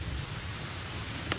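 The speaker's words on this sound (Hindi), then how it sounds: "हाँ यहाँ पर बारिश हो रही है" Steady hiss of rain falling, broadband and even throughout, with a low rumble underneath and one brief sharp tick near the end.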